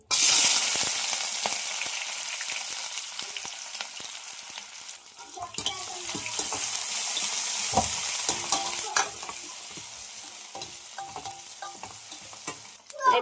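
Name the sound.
onion, green chili and ginger-garlic paste frying in hot oil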